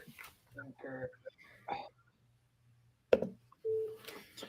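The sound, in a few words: telephone ringing during a cold call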